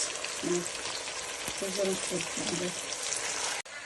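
Onions frying in oil for kuyrdak, a Kazakh fried meat dish, with a continuous crackling sizzle and occasional stirring while a voice talks briefly over it.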